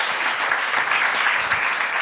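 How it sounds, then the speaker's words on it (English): Audience applause fills a summit hall, a dense, even patter of many hands clapping steadily, loud and close with no voices standing out. "they need a big applause"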